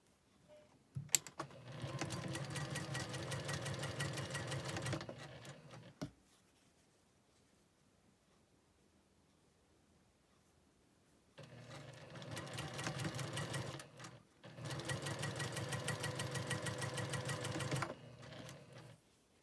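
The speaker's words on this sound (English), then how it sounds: "Sew this last column on." A sewing machine stitches a quilt block column in two long runs, a rapid, even mechanical chatter that stops for several quiet seconds before starting again, close and alone.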